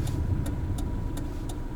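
Engine of a 1995 Kia Pride with manual gearbox, a steady loud low drone from inside the car, with faint periodic ticking over the hum and no talk.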